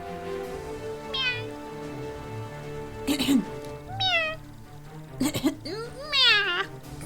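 A woman imitates a cat over a spaceship's PA system in a video game, producing several drawn-out fake meows with pauses between, layered over a rhythmic electronic background beat.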